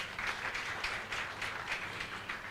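Steady audience applause at a Women Economic Assembly side event at the Mining Indaba, a soft, even wash of many hands clapping with gentle swells, heard from a distance throughout.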